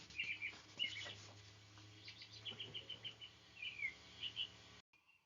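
Several birds chirp and trill together in short repeated bursts over a soft insect-like hum, fairly faint and steady, before cutting to near silence at the end.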